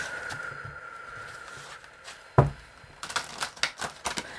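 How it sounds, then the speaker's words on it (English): Tarot cards are shuffled close by: a sharp riffle burst, then a quick run of crisp flicking snaps. "seeing me shuffle cards"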